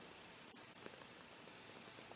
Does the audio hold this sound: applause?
no